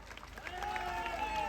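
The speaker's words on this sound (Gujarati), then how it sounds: "એકવાર એમના માટે તાળીઓ થઈ જાય" An audience at a political rally in Narmada, Gujarat, applauds for Arvind Kejriwal, a brief, faint patter of clapping from the crowd blended with a voice over the PA.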